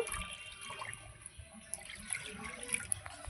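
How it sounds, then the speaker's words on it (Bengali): Water pouring onto washed semolina in a kitchen bowl, a steady running splash that continues throughout at moderate level, with no talking. "সুজিটা ধুয়ে নিয়েছি, এবার জল দেব।"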